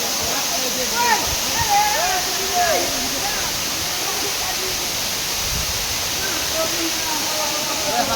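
A mountain waterfall gives off a loud, constant roaring rush of falling water, with voices faintly heard over it now and then.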